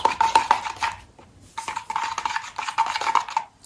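Wood filler being stirred in a container, a scraping, clinking mix in uneven strokes with a short pause midway, close and fairly loud with no talk.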